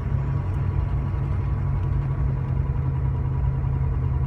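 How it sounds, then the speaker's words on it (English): A car engine runs steadily during a diagnostic check, a low, even rumble close by with a slight rise under light throttle, fairly quiet and with no talking. "Let me give it a little throttle, you can see"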